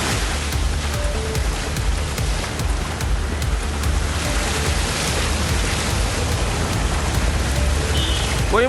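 Moderate rain falls steadily in Dindigul, a dense, even hiss of drops on surfaces that continues unbroken throughout.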